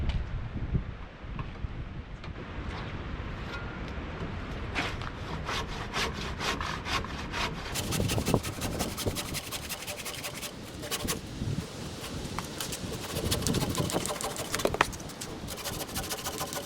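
A hand saw cuts through soaked, wet wooden posts for garage parts, rasping in steady back-and-forth strokes up close with some wind noise on the microphone and occasional knocks.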